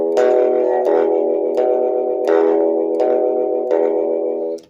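An electric guitar picks in a Sun Records-era style, a muted boom-chicka pattern with about six evenly spaced plucked strokes, close and clear, no talking.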